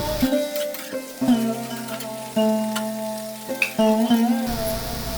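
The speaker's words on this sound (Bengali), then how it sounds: "সমস্ত সবজি আমি একসঙ্গে নেড়ে চেড়ে ভালো করে ভেজে নিচ্ছি।" Bottle gourd leaves and mixed vegetables fry in a pan with a soft sizzle, broken by intermittent stirring scrapes and clinks, fairly quiet and close, with no talking.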